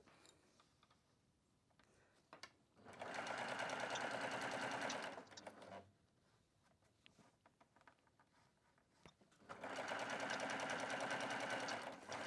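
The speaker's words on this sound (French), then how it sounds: "je démarre à 1 cm de couture" Baby Lock sewing machine stitching a seam 1 cm from the edge on a handbag, two loud, steady whirring runs of about two to three seconds each, with quieter handling clicks between them.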